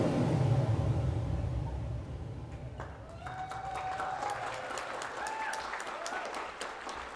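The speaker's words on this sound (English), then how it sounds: "Y fuerte este caloroso aplauso." A wedding reception crowd applauds after the father-daughter dance, a dense, loud burst of clapping that fades to a softer, sustained patter as background chatter and music rise.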